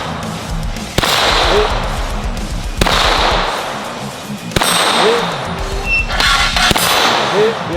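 Glock 34 pistol fired at watermelons outdoors: four loud, sharp gunshots spaced about two seconds apart, each cracking out and trailing off into a brief echo.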